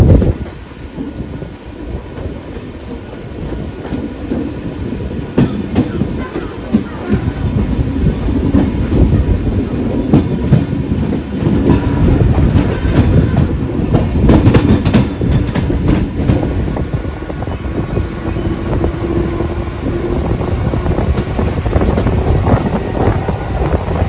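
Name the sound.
Diva–Chiplun MEMU train running on rails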